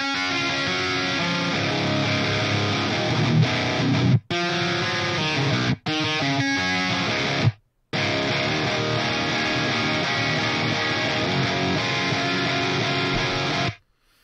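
Electric guitar played through an amp simulation with room reverb, the reverb fed through a high-pass filter so it rings only in the treble; dense, loud distorted playing with a few abrupt short breaks.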